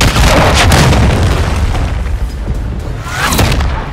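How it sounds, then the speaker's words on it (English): A cruise missile blast in Modern Warfare 3 multiplayer: a loud, sustained rumbling explosion with a heavy low boom that fills the whole stretch, swelling again near the end, with no talk over it. "Friendly cruise missile deployed."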